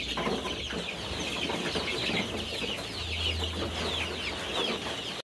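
Kroiler hybrid chickens on a Dar es Salaam farm cluck steadily in a flock, overlapping calls forming a continuous busy barnyard chatter close by.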